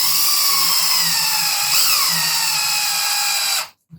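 A power drill with a 5/16 bit drives a bolt into a homemade mounting frame for Fanatec ClubSport v3 pedals, giving a loud, steady, close whine with a brief dip in pitch midway before it cuts off abruptly.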